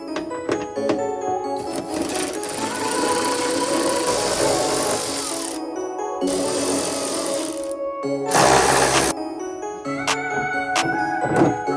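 Bolts being worked out of the trunk of a 2018 Mustang GT with a socket wrench and deep 10 mm socket, a steady mechanical whirring with clicking and ratcheting bursts, close and continuous, with short pauses between passes.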